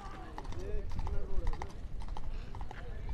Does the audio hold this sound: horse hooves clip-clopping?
yes